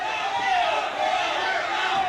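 A wrestling crowd at a Big Time Wrestling show in Detroit jeers Austin Idol, a steady, loud roar of many voices filling the arena, sustained throughout with no clear pauses.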